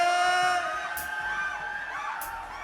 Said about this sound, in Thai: ขอเสียงกรี๊ดดังๆหน่อยเลย